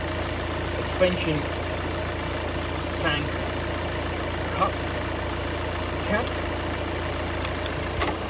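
A car engine idles steadily during a cooling system check, a low continuous hum with faint periodic ticks, while someone talks over it throughout.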